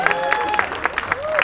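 Applause and cheering from a crowd at an engagement celebration during a festive Raas Leela night, with scattered claps over a lively background where a voice and music-like tones carry on throughout.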